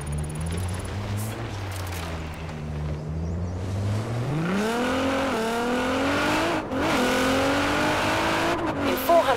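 A car engine in Forza Horizon 4 drones, then climbs in a sharp revving sweep with rising harmonics as it accelerates out of a left turn, loud game audio with occasional light tire noise.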